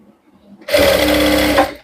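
A sewing machine runs in a quick burst of rapid stitching on a shirt sleeve cuff, loud and close, starting abruptly after a near-quiet moment and stopping just under a second later.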